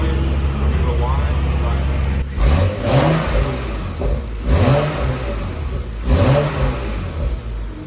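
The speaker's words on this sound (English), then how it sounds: "I'm just going to give it a couple revs and see if you can hear any difference" Car engine fitted with a new GFB diverter valve blipped three times at idle, each rev rising and falling sharply with a whoosh as the throttle closes, close-up and loud, with a low idle rumble before the first rev.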